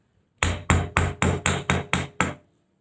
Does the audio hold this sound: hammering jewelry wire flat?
yes